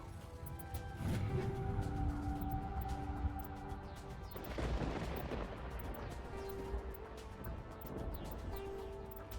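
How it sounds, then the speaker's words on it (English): High explosive rounds fired in the Mass Effect video game, heard as a series of booming blasts with rumbling tails over a steady game soundtrack, fairly quiet in the mix, with heavier bursts around the middle. "nothing beats these freaking high explosive rounds"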